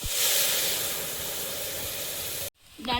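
Dried red chillies and whole cumin hit hot oil in a pan, a loud bright sizzling hiss that bursts at once and fades slightly, cutting off abruptly near the end before a brief new rush of noise.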